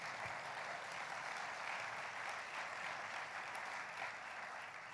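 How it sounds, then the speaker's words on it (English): Audience applause at a climate leaders' event, a steady and evenly sustained wash of clapping hands heard at some distance, with no talk over it. "you should clap for that"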